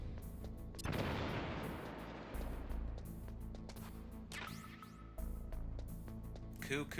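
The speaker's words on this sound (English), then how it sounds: "That was the loudest explosion" A loud in-game explosion in Metal Gear Solid, a sudden broadband blast that rolls into a rumbling low tail, followed by further booms and crashing debris, with speech-like game audio underneath.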